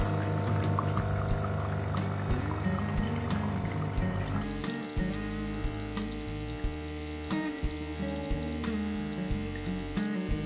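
A Philips EP3243 coffee machine runs a rinse cycle, its pump humming steadily while hot water pours continuously into a cup for about ten seconds, close and fairly loud.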